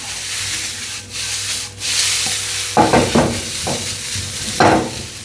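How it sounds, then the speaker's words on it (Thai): Scraping and rubbing of food in a hot pan, with a few louder stirring bursts over a steady background hiss. "ผัดไปเรื่อย ๆ นิดนึงให้มันแบบหอมๆ"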